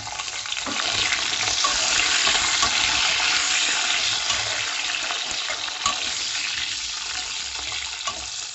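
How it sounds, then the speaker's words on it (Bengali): Long potato strips fry in hot oil with two dried red chillies and black cumin, a steady close-up sizzle with a bright crackling hiss throughout and no talk. "আলুগুলোকেও আমি লাল করে ভেজে নেব"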